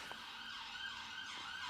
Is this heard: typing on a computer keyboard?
no